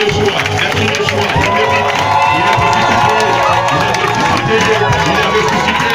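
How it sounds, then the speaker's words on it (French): A large church congregation cheers and shouts for joy loudly and continuously, a dense wall of voices with no pauses. "Avec des cris de joie, des cris de joie."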